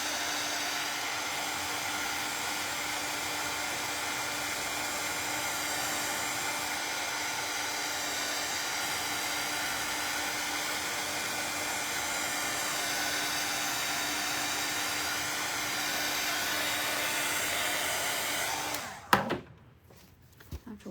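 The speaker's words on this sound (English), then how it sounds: "I'm gonna hit this with a dryer so that I can get it glued on here." A dryer blows steadily on a painted craft piece, making a loud continuous whooshing roar for nearly twenty seconds before it cuts off abruptly, followed by a few small handling noises.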